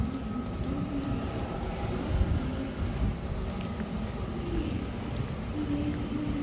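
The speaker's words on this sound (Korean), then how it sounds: "아 코끼리 열차" Steady low rumble of a zoo elephant tram rolling past at Seoul Grand Park, continuous rattling drone throughout with faint background noise.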